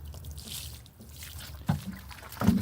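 Water trickling and splashing onto the top soil layer of a garden bed before solar cooking, soft intermittent dribbles with a couple of louder pours near the end, close and fairly quiet.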